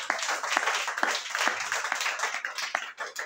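A church congregation claps along at a worship service, steady rhythmic handclaps about twice a second with a faint hum of voices underneath, moderately close and continuous.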